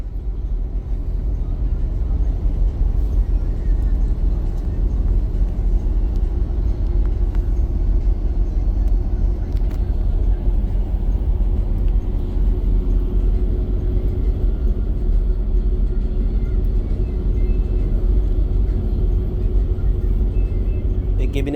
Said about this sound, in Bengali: এবার সেই কেবিনের ভেতর থেকে আপনাদের কেবিন নয়েজটা শোনানোর চেষ্টা করব।